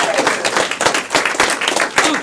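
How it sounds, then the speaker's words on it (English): Audience clapping for comedy players taking the stage at a live comedy show, a dense burst of applause lasting a couple of seconds with some crowd voices mixed in. "Let's clap for them,"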